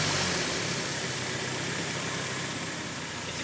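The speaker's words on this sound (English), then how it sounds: "I'm going to turn the engine on and let it run for about 45 seconds" A Toyota Tacoma 2.4L engine idles steadily, a constant broadband hum with no voices over it.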